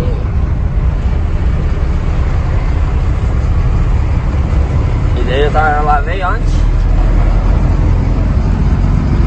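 Truck engine running steadily while driving, a constant low rumble with road noise filling the background as someone talks over it throughout.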